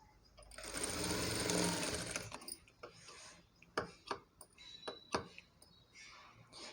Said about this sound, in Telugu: మనం స్టిచ్చెస్ వేసుకునేటప్పుడు కొంచెం చూసుకుంటూ వేసుకోవాలండి